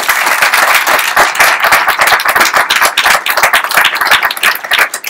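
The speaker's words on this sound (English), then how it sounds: "Can you give them an amazing round of applause?" Audience applause at an art portfolio workshop event, a dense burst of many hands clapping steadily and loudly throughout, close and sustained with no talking over it.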